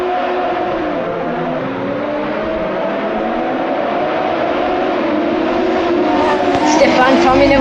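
Several race cars in a racing video game roar off the start at Dover Raceway, a dense, steady engine drone with rising revs that swells near the end, with a voice talking over it.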